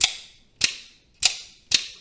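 A Hogue Counter-Strike OTF knife blade fires out and retracts, four sharp, crisp snapping clicks spaced about half a second apart, close up and isolated against silence.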